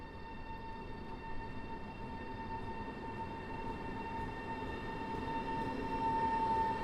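An ED250 electric train departs Warsaw West station, a steady broad rumble with a sustained tonal whine and high hum, moderately distant and continuous, with no talk.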